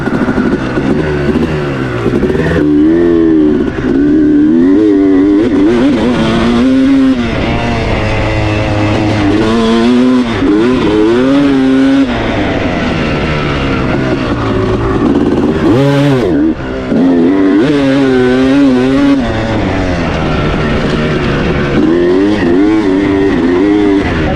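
A 2006 Kawasaki KX250 two-stroke off-road motorcycle on heavy Shinko tires rides a turn track. The engine is loud and close, rising and falling through repeated revs, with steady throttle blips and short pauses.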